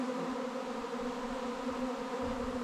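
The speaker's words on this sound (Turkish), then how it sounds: "Çok da arı çıkmış ya." A dense, steady hum of many honeybees swarming outdoors near a hive fills the air, a loud, continuous buzz with no voices over it.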